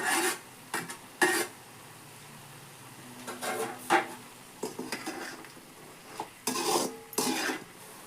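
Wild boar curry is stirred in a pan during village-style outdoor cooking. A spoon makes short, scraping strokes against the metal in irregular bursts, close up, with quiet gaps between them and no talking.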